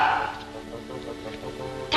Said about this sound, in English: That's a nice little dog.